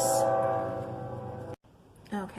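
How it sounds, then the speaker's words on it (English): A passing train rumbles steadily with a sustained tonal horn, then cuts off abruptly before a voice begins speaking. "I tried to pause while that was, the train was going by."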